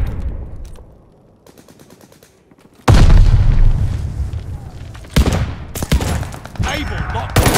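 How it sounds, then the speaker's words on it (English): A grenade explosion and gunfire in Call of Duty Vanguard, Domination mode on the Red Star map: faint rapid shots and talk, then a sudden loud blast followed by continued heavy gunfire and booms. "Watch the grenade!"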